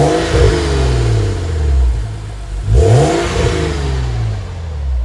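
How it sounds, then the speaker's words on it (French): A BMW 1M E88 cabriolet fitted with a Ragged Zone stainless exhaust revs loudly and up close, its engine note rising and falling through two strong sweeps over a steady rumble. "c'est un échappement Ragged Zone inox."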